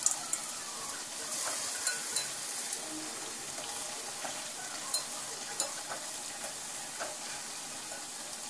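Vada frying in hot oil, a steady dense sizzle and bubbling crackle with occasional sharper pops, fairly close and continuous with no talking.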